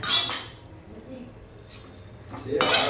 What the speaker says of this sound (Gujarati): હવે એની અંદર તૈયાર કરેલો સોસ એડ કરી દેવાનો છે જેમાં બધો જ સ્વાદ છે અને કલર પણ એનાથી જ સરસ આવશે અને એને મિક્સ કરી લઈશું આપણે